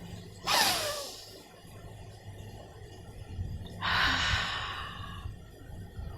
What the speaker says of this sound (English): Take a long deep breath.